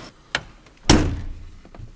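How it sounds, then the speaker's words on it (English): A truck door swings shut with a single solid, heavy thunk and a short low rumble after, preceded by a faint knock; no talking. "Closing the door."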